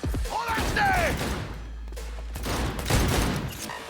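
Gunfire in Cyberpunk 2077: rapid bursts of shots crackling close and loud, a brief lull in the middle, then more firing, with excited voices shouting over it.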